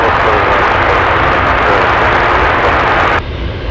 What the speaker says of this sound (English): Looks like the seaplane taking off on 7 left.